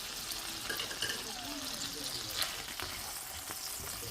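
Leftover sausage sizzles steadily in a hot pan with stir-fried ramen lo mein, a continuous close crackle with occasional stirring scrapes.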